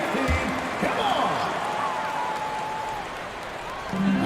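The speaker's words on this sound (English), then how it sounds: "A big cheer for your Suns dancers dance team." Crowd cheering and applause in a simulated basketball arena during a Lakers vs. Phoenix Suns video game broadcast, a broad sustained roar with sneaker squeaks and a bouncing ball, thinning out before a fresh swell at the end.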